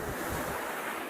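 Ocean waves wash onto a beach under a blue sky, a continuous close roar of surf mixed with gusty wind buffeting the microphone, with no talking.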